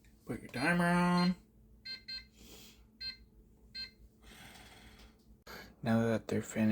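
A kitchen timer beeps while dog treats bake in the oven: a few short, thin beeps in the middle, with louder sustained tonal blasts at the start and end against a quiet room.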